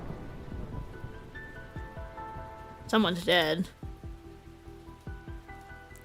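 Steady rain falling through a night scene in the Arknights video game, a soft continuous patter under game music, with someone speaking briefly and a louder warbling burst midway.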